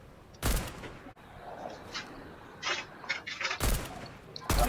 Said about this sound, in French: Là, je tire un petit peu au hasard.